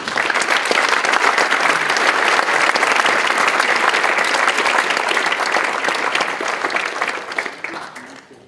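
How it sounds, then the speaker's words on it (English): Sustained audience applause fills a hall at a high school math league tournament, steady and dense for most of the stretch before thinning slightly toward the end. "So would you give Augsburg University another round of applause, please?"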